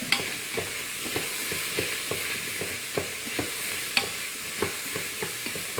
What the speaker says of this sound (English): Let's see how our sauteing is doing. I think our sauteing is doing all right.